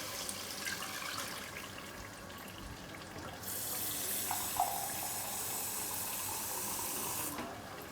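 Water pouring steadily into a cooking pot of beef haleem, a continuous splashing rush that grows fuller midway and then stops abruptly, close with no talk.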